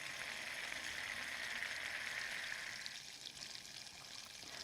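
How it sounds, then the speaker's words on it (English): Butter sizzles steadily in a pan, a dense crackling hiss that eases slightly toward the end. "once the sizzling starts to slow down, that means that most of the water is gone"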